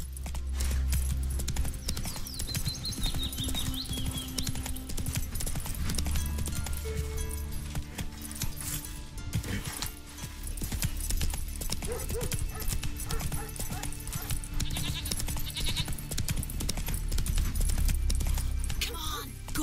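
Hooves of the horse Roach pound in a galloping clip-clop through The Witcher 3's game world, a steady rhythmic drumming under ambient game sounds, with a man urging the horse on at times.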